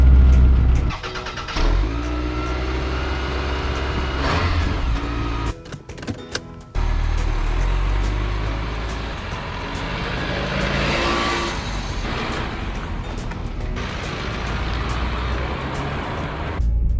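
A Toyota Solara's engine idles and revs through a drive, with a continuous low rumble inside the car, a short pause partway through, and a window motor whirring at one point.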